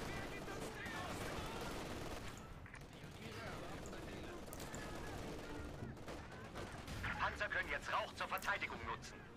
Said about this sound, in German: Das könnte jetzt wieder das MG gewesen sein